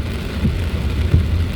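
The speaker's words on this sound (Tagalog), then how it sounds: "Ang lakas talaga ng ulan" Heavy typhoon rain around Alabang Hills, a dense loud roar of downpour with low rumbling swells, steady throughout and close by.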